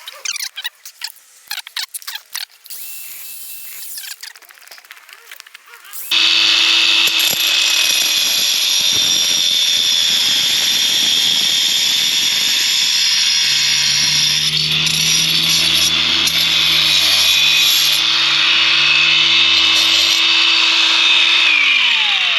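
A cutter tool on a high-flow inlet for an Astra VXR Nurburgring, cutting a thread and valve seat, gives a loud, continuous high-pitched grinding whine that begins abruptly after a few seconds of quieter clicking and rattling, and then runs steadily to the end.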